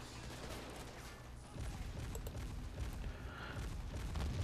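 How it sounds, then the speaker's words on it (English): Anti-aircraft gun firing on a tank at long range in the WWII strategy game Men of War: Assault Squad, set in the Philippines; dense, continuous rumbling bursts of gunfire that grow heavier midway, with no talk. "my AA gun is firing on that tank from pretty far"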